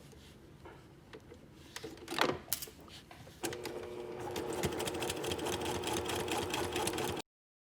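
Sewing machine stitching a shirt facing a quarter inch from its edge; a few handling clicks first, then a steady close mechanical whir for about four seconds before abruptly stopping.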